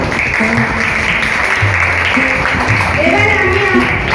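An audience at a teacher's day celebration claps in a steady wash of applause, with voices talking over it the whole time.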